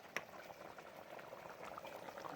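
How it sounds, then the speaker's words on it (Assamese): Meat curry with potatoes bubbling in a pot over a fire, a steady soft simmering crackle with small pops, fairly faint and continuous throughout. "বেয়া উতলি আছেচোন বাপৰে"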